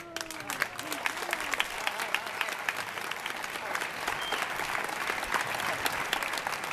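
Townspeople at the festival proclamation for Nuestra Señora del Consuelo in Torremenga, Cáceres, burst into applause, sharp individual claps building into a dense, sustained ovation nearby.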